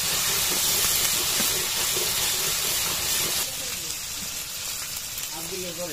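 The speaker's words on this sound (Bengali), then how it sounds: "এটা একটু কষায় নিব, মশলাটা কষায় নিতেছে ভালো মতো।" Spice paste of ground cumin, cloves and cardamom frying in a pan for a village-style country chicken biryani, giving a steady, close broadband sizzle and hiss that eases slightly partway through.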